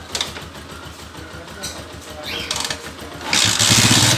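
A freshly overhauled Honda TMX 155 motorcycle engine runs through a loud exhaust, a steady mechanical churn that swells into a roaring, noisy blast near the end, close by.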